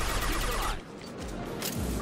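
Gunfire in the Mass Effect 2 video game, heard as a dense burst of loud, crackling shots that drops off briefly and then picks up again.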